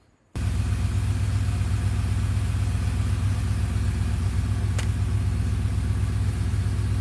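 A truck engine idles steadily nearby, a low continuous rumble that starts abruptly and holds even throughout, with no talk over it.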